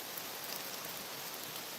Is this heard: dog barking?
no